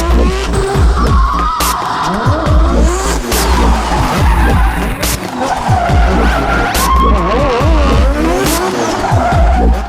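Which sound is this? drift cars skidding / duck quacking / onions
drift cars skidding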